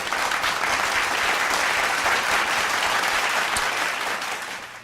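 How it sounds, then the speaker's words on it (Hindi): Loud, sustained applause from the audience at an Urdu literary gathering, a dense wash of clapping that holds steady before tapering off at the end. "बेपनाह तालियां प्लीज़।"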